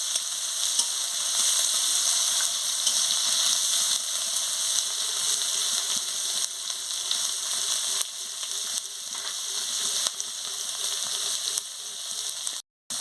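Chopped onion fries with small puti fish in a pan, making a steady, loud sizzle that stays even throughout, with a brief dropout just before the end.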